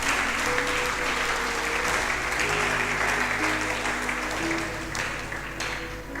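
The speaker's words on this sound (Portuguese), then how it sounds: "Uma salva de palmas para o Senhor." A church congregation claps steadily for about six seconds, dense and loud throughout, tapering slightly toward the end.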